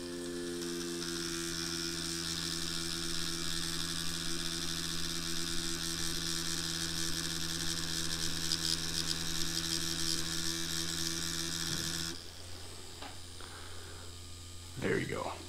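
A tattoo machine runs at a lowered 6-volt setting, giving a steady electric buzz with a low hum for about twelve seconds before it stops, leaving quieter handling noises.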